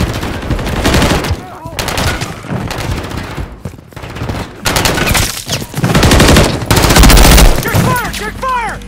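Rapid sustained bursts of BP50 assault rifle fire in the video game Modern Warfare 3 during a team deathmatch, loud and close, with short pauses between volleys and faint game voices beneath.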